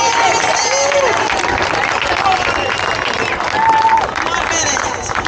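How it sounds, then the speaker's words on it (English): A crowd at the start area of the Point to Lapointe open water swim gives a big round of applause and cheers for a starting wave, loud and continuous throughout, with a voice calling over it. "Let's hear it for wave 3. Big round of applause."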